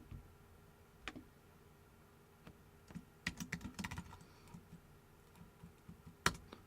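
Sparse, irregular keystrokes on a computer keyboard during coding, quiet and close, with scattered clicks and a few louder taps and no talking.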